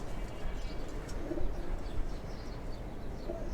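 Young red-tailed Lalpatti pigeons kept in a cage coo softly beneath a steady wash of background noise.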